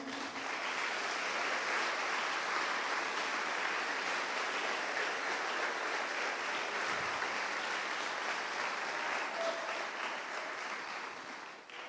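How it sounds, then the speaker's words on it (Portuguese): Church congregation applauding during a worship celebration service, a steady sustained wave of clapping from many hands filling the room for about twelve seconds, fairly loud with no talk over it. "Você pode dar um aplauso ao Senhor?"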